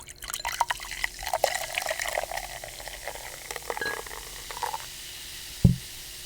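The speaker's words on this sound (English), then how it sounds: "I just love me some ambrosia. I don't even want to pour it right now. All right, I'm gonna pour" Ambrosia drink poured into a glass, with fizzing, dripping liquid sounds close to the mic and a sharp bump near the end.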